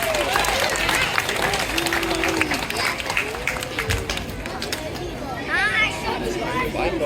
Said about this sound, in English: Give yourselves and Kobe a round of applause.